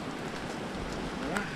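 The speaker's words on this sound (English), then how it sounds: "Apparently it's gonna keep raining for the next 2 days." Steady rain falls outdoors in an even patter, a constant moderate hiss throughout with no pauses.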